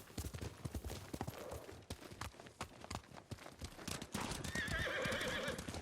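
Kage, a horse in the samurai game Ghost of Tsushima, gallops with rapid, loud clip-clop hoofbeats, then lets out a long whinnying neigh near the end over rising ambience.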